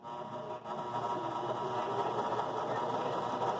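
A Baby Lock Joy sewing machine stitches a buttonhole, giving a steady, close mechanical whir with a dense rapid hum that runs continuously after a brief dip near the start.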